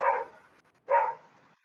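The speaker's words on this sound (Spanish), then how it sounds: "sí, es el perrito ladrando." Small dog barking twice through an open microphone during an online class, two short sharp barks with a pause between, fairly loud and alone.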